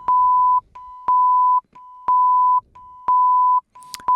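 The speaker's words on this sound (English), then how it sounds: "So here's the note without the fifth." A pure 1 kHz sine tone from an oscillator, sounding as a steady continuous pitch broken into repeated half-second pulses with brief gaps and clicks, with no talking.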